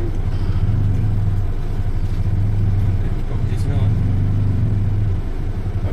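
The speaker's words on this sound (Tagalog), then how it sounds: "Tricycle pa dyan." A motorized tricycle passes on a road near a farm, its engine a steady low rumble under ongoing talk, present throughout the moment.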